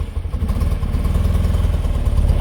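A 1974 BMW R60/6 motorcycle engine running just after a cold start, a steady, close, loud idle with an even low-pitched mechanical throb and clatter.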